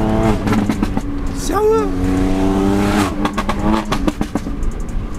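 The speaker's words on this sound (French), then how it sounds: "Le turbo qu'on entend s'il fait comme ça là?" Modified turbocharged Ford Fiesta ST engine revving, its pitch sweeping up and falling back in quick bursts, with people talking over it.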